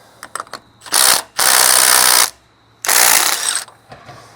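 Socket ratchet wrench loosening a bolt on a vehicle: a few light clicks, then loud bursts of rapid ratcheting clatter, close and without talk.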